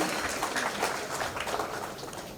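An audience at a literary translation festival inauguration applauds in a continuous, moderately loud rush of many hands clapping together, steady throughout and slightly fading toward the end, with no talk.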